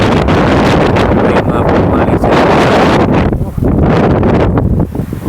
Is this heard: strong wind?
yes